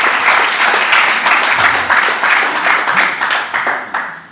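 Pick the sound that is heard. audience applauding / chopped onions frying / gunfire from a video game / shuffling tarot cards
audience applauding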